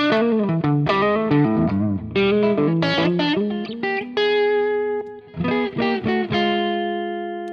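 Electric guitar played through a Fractal preset, drive pedal distortion feeding a clean amp, ringing out as loud distorted riffs and sustained chords with slight reverb, with no voice over it.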